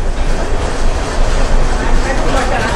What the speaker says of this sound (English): So, it's huge train station.